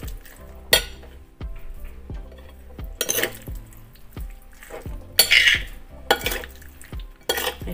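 Food being mixed in a pot, with repeated metallic clinks and scrapes of a utensil against cookware, close and irregular, some strikes sharper and louder than others.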